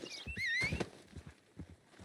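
Horse hooves clip-clopping in the video game Red Dead Online, a faint, steady run of soft thuds with a brief high whistling tone over the top.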